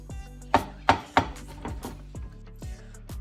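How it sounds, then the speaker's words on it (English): A knife chops garlic cloves on a board in sharp, uneven strokes, several loud close cuts at first and then softer, spaced taps. "I'm gonna chop up a couple of cloves of garlic"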